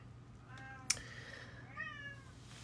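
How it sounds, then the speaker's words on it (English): A house cat meows twice close by in a quiet indoor room, first a short sharp call and then a longer, falling mew. "do you hear my kitty?"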